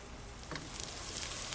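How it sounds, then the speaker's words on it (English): Chopped garlic and onions sauté in 2-3 tablespoons of hot oil with a soft, even sizzle and a few faint pops, close and quiet, with no talking. "add the chopped garlic and add the chopped onions and saute the onions for some time"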